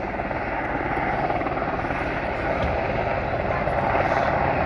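Westland Sea King helicopter at the Midlands Air Festival at Ragley Hall, a loud continuous rotor and turbine roar with a steady throbbing beat, close and unbroken for the whole stretch.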